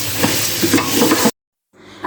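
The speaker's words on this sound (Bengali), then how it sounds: "এখন আমি এগুলা এর সাথে দিয়ে চারপাশ থেকে নেড়েচেড়ে ভেজে নিব" Washed pulao rice being stirred and fried in a pot for a rice-cooker pulao, giving a steady close scraping sizzle. The sound drops out abruptly for about half a second, then the stirring resumes more softly.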